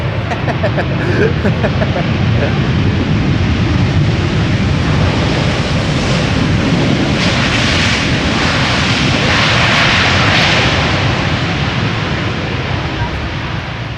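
An airplane lands at Amsterdam Schiphol Airport with a loud, continuous roar of engine and rushing noise that holds steady throughout and swells slightly toward the middle.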